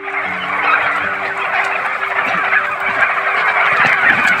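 A flock of farm turkeys calls and gobbles continuously, a dense, steady chorus of bird noise close by.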